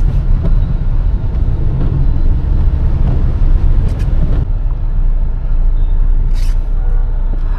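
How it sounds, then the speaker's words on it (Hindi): A Honda Elevate 2025 SUV moves through city traffic, heard as a loud steady rumble of road and engine noise from inside the cabin, with a faint passing sound or two. "मैं सिटी ट्रैफिक्स के अंदर गाड़ी को चला रहा हूँ"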